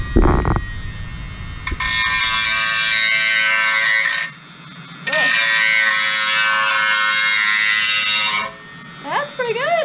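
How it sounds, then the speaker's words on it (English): Dremel rotary tool fitted with a sanding head runs along the inside of slots in level 2 rocket components, a high whining buzz in two long bursts with a short pause between, plus brief handling noises at the start and end. "sander head on the Dremel and running it down the inside of those slots to clean up all of the little bit of fuzz"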